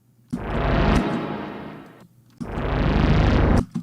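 Two long, thick synthesizer swells of broadband noise with a low rumbling bass from a Deckard's Dream synthesizer, each sustained over a second, separated by a brief gap.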